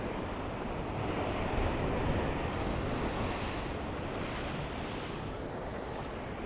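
Big ocean waves over four feet break at Fingal Heads at sunrise, a continuous heavy roar of surf with wind buffeting the microphone, steady and loud with no voices.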